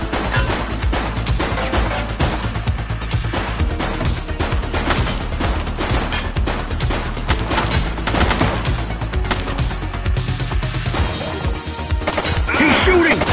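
Rapid bursts of gunfire from a suspect in the police video game The Precinct, loud and dense, cracking repeatedly over an ongoing game soundscape for the whole stretch.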